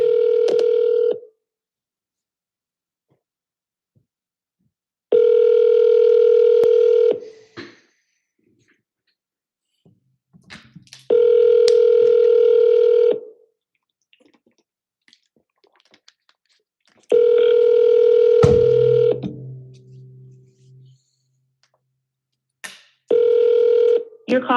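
An outgoing phone call to a private home seller rings back in loud, evenly spaced tone bursts about two seconds long, with near silence between rings.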